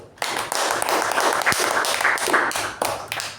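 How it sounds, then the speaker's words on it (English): Sustained applause from a Toastmasters club meeting audience fills the room, dense overlapping claps running steadily throughout at moderate loudness. "let's give a huge round of applause to all of us for starting at least by 6:23 p.m."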